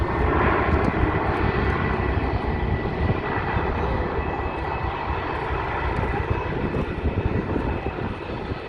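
A Jetstar airliner passes at Sydney airport, its loud engine roar filling the air as a steady broadband rush that holds for several seconds before easing slightly.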